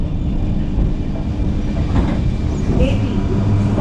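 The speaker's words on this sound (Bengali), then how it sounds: "তো আমাদের ট্রেন ঢুকছে বনগাতে" A train pulls into Bongaon station with a steady, loud rumble of wheels on rails, low droning and faint squeals close by, continuous throughout.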